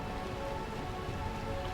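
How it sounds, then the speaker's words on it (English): Steady rain falls continuously in the Burmecia area of Final Fantasy 9, a soft, even patter on surfaces with no voices over it. "basically it's always raining here"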